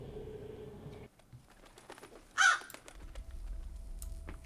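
A crow caws once, brief and clear, amid quiet ambience in the survival video game SCUM.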